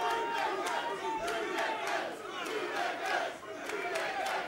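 Loud, continuous roar of a wrestling crowd at Epic Studios in Norwich, cheering and yelling for a hometown tag team, with rhythmic chant-like surges throughout.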